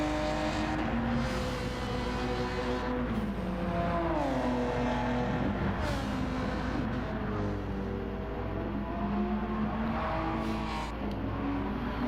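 Ferrari race car engine in Gran Turismo 7 drones continuously, with its pitch rising and dropping through gear changes and acceleration. The engine stays at a steady moderate level throughout with no speech.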